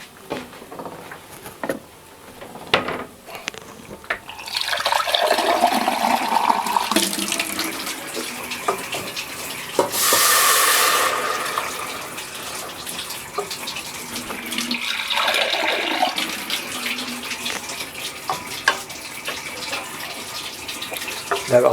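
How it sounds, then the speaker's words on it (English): Water pours from a tap into a cooking pot for pumpkin, a steady rushing stream that starts after a few seconds of quiet handling, surges louder, then eases and continues. "Okay, it's time to add a little bit of water."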